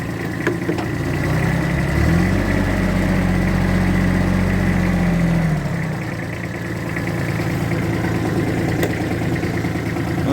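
A tractor engine held at 2500 rpm on the hand throttle, a loud, steady, close drone with a rising pitch around the middle that settles back into a constant rumble.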